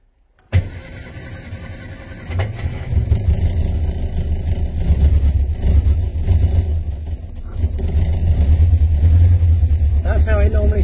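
An engine cranks and catches with a little choke applied, then settles into a steady, loud running rumble close by, with a brief surge partway through and voices talking over it.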